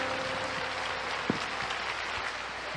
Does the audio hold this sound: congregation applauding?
yes